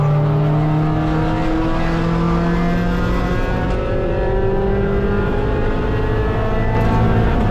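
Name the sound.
race car passing on track at Mid Ohio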